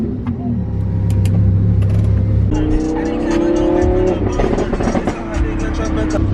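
A Lamborghini drives past in loud, close engine noise, rising in pitch through short, steady pulls with a gear change partway through. Wind and road noise sit beneath it, and a voice speaks briefly.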